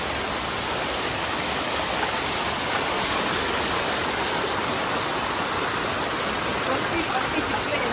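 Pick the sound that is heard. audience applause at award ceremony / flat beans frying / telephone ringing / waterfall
waterfall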